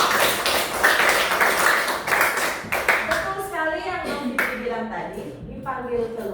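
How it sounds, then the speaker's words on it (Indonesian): Classroom applause for a student during a religion lesson: a burst of clapping over the first few seconds, then fading into a teacher's speech. "tepuk tangan untuk Novili."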